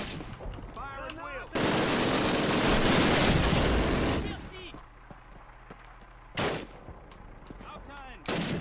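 FG-42 gunfire in Call of Duty, a loud sustained burst of rapid automatic fire lasting a few seconds, followed by a shorter burst later, with someone talking between the volleys.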